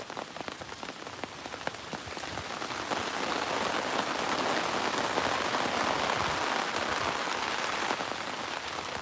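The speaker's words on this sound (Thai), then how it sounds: "มันเป็นละอองละอองฝนจริงๆนะเนี่ย" Fine rain patters steadily on surfaces nearby, a soft hiss that swells slightly after the first few seconds and then holds.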